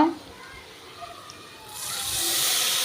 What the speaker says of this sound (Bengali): তো এখানে আমি পানিটা দিয়ে দিব কষানোর জন্য